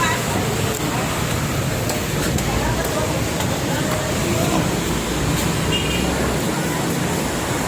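An MRT train passes in Pasay, Manila, with a steady rumble and rattle mixed into heavy street traffic noise throughout.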